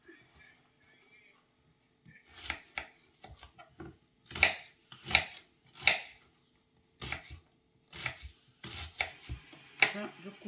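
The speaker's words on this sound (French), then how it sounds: "je coupe ça vraiment grossièrement" Knife coarsely chopping onions and peppers on a board for a caramelized roast pork dish, a series of sharp close cuts with pauses between, with soft talk at the start.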